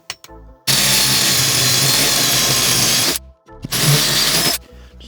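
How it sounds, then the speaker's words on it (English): A power drill bores through a rubber mat during a train horn installation, two loud close bursts of whining drilling separated by a brief pause. "especially when you're trying to drill off of this rubber mat"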